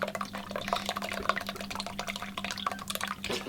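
Milk mixture is poured out for homemade ricotta in a boat's galley, an uneven run of splashes, drips and gurgles close up that stays at a moderate level throughout.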